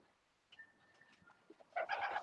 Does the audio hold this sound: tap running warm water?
no